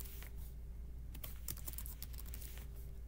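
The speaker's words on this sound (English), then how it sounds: "So I type my question in." Keys tapped on a computer keyboard while entering a multiple-choice question into Google Forms, a quick steady patter of clicks over a low constant hum.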